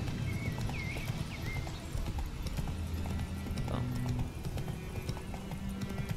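Steady clip-clop of horse hooves at a walking pace in The Witcher 3: Wild Hunt, close and continuous, with a few faint whinny-like cries early on.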